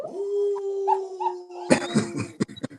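A voice imitates a wolf howl with one long, steady, sustained tone that fades out, followed by short, rough vocal noises and clatter.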